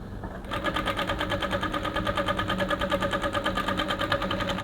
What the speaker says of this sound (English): So you take to your machine, you just stitch here all the way down.